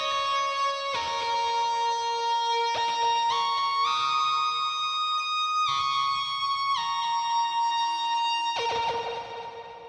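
A bright plucked synth lead plays a sustained, stepping melody with distorted, effected tone, steady and loud throughout, no voices.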